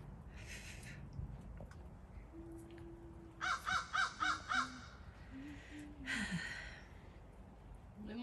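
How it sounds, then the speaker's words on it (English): Several crows caw in a quick run of about five sharp calls midway, with another burst near the end, over steady outdoor background noise and a low hum. "the crow and the turkey vulture."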